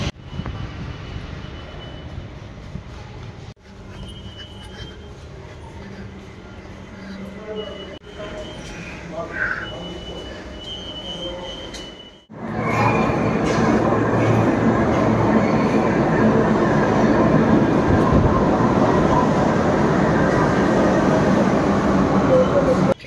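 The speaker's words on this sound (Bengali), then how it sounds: "মেট্রো করে যাব, অনেক দিন বাদে মেট্রো চড়বো।" A Kolkata metro train ride toward Kalighat: quiet rumbling carriage noise for the first twelve seconds, then a sudden jump to a loud, steady roar of the train running underground, with faint voices in the background.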